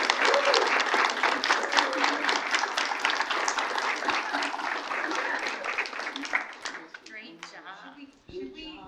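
Audience at a school board meeting applauding children, a dense burst of clapping that runs strong for several seconds, thins out and fades, with voices chatting as it tapers off.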